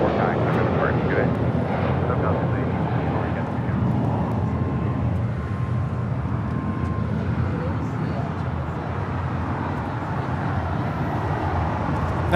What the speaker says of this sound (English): That was JetBlue 1874 taking off to Newark on an A321 in that Newer livery